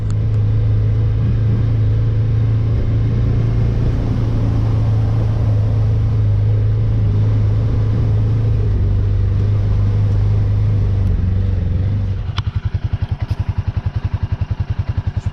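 A Can-Am Commander XT 700 side-by-side engine rumbles loud and close as it sets off, a steady low drone that drops into a choppier, throbbing idle-like pulse near the end, with no talk.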